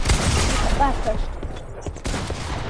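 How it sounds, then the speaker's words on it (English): Dense bursts of Fortnite gunfire crackle close and loud in rapid succession, fading slightly toward the end, with a player's voice briefly underneath. "he's shooting"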